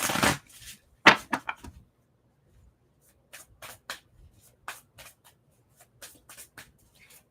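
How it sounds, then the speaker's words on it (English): A deck of tarot cards is shuffled by hand in short papery riffles and flicks, loud bursts at first, then a sparse series of softer, close-up shuffles separated by quiet gaps. "Let me get some shuffles in."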